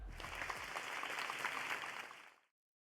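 A short burst of crowd applause in a video game banquet hall, even and dense, then cutting off abruptly.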